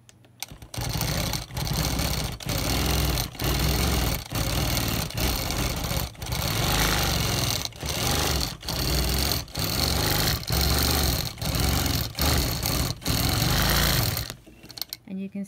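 Sewing machine stitching yarn onto upholstery fabric in a couching technique, running in steady continuous bursts with brief regular pauses, close and fairly loud throughout.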